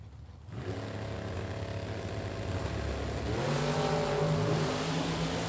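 A Chevrolet Monza drag racing car at a Super Pro drag strip, its loud engine roaring steadily and then revving higher as it comes up the lane, heard alone without talk.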